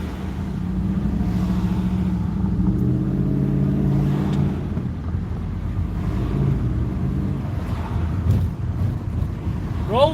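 Dodge Hellcat passing on a neighborhood street on a Sunday afternoon, a loud, steady engine roar with low rumble and wind buffeting, peaking midway and fading with no voices over it.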